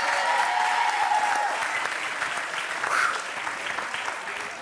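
An audience claps loudly and steadily, strongest at the start, then fades a little with a brief swell partway through. The dense clapping continues throughout.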